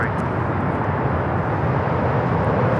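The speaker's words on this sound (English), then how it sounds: "This is United Airlines 152 taking off to Hong Kong on the 787-9 Dreamliner" A United Airlines Boeing 787-9 Dreamliner, flight 152 to Hong Kong, takes off at LAX, producing a loud, steady, broadband jet roar that holds evenly for the whole stretch.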